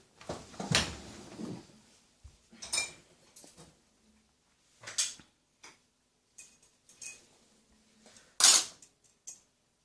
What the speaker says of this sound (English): I haven't put all of my cutlery in, so I'm just going to open up the door